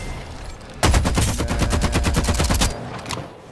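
Rapid automatic gunfire in the video game Farlight 84, a loud sustained burst of evenly spaced shots lasting about two seconds, then stopping abruptly, with no voices over it.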